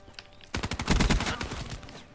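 Dingo gun in a video game firing a rapid close burst of automatic shots lasting about a second and a half.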